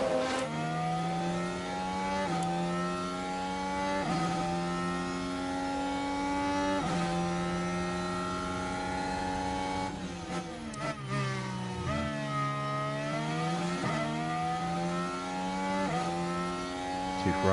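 In the game F1 Manager 23, two Ferrari Formula 1 cars race side by side, their high-pitched engines wailing and shifting through gears, rising and falling as they pass close by and fade.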